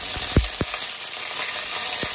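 Curry leaves and cumin crackling in hot oil during tempering for Maharashtrian varan dal, with a few sharp pops near the start and one later over a steady sizzling hiss.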